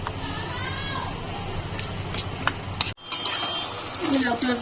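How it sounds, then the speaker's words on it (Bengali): A spoon stirs flour into milk in a bowl, giving light clinks and scraping taps against the side that come in brief, irregular bursts, with a short break midway. "ময়দাটা আমি ভালো করে মিশিয়ে নেবো দুধের সঙ্গে"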